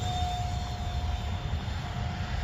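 A brushless FX9631 J35 electric ducted-fan RC jet flies overhead in light snow, giving a steady, continuous whine with a thin high tone over a broad rushing roar, holding even loudness throughout.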